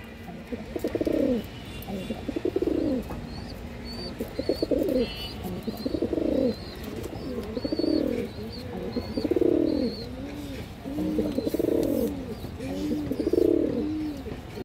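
Pigeons coo nearby in a repeated series of soft, throaty rolling calls at a steady rhythm, with faint chirps and light rustling behind them.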